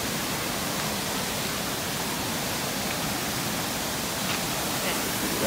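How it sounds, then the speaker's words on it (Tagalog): A strong river current flows steadily, a dense broadband rush of water that holds at the same loud level from start to finish with no voices over it. "Sarap marinig, ma-arbab, yung daloy ng tubig. Yung agos ng tubig."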